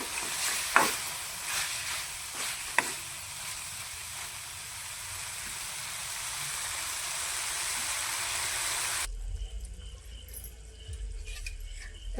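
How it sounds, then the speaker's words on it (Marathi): Dry goat mutton (sukka mutton) fries in oil with a steady sizzle and occasional stirring clatter for about nine seconds. The sound then drops to a quieter, muffled background. "आज तर सुक मटण आहे ना सुक मटण बनवलं"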